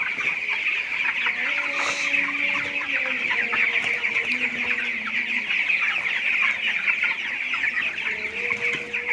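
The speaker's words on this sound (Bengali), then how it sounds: "মুরগিগুলো কিন্তু সব উঠে গেছে" A flock of poultry in hot weather cluck continuously, a dense close chorus of overlapping calls over a steady background hum, with no talk.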